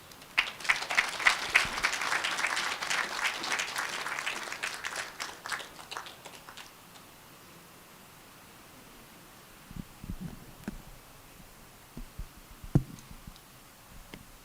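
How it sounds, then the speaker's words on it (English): Audience applause at the close of a professorial inaugural lecture, a dense burst of clapping that swells for several seconds, then thins into scattered claps and quiet room noise with a few soft thuds. "May we please give her another big round of applause."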